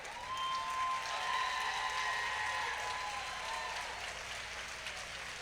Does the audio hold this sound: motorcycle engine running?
no